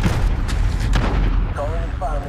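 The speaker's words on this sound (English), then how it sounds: "Allied cruise missile away." Heavy explosive booms from a cruise missile strike in a PS5 first-person shooter, several rumbling blasts over about two seconds, loud and close, with game radio voices talking near the end.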